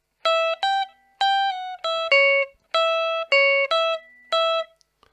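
A clean electric guitar plays a rockabilly lick from a lesson, with about ten bright, separate plucked notes and quick pull-offs in a bouncy rhythm, close and clear with no talk.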